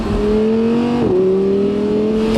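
Loud, close engine roar of an Audi R8 climbing in pitch as the car accelerates, with a brief dip at a gear change before rising again.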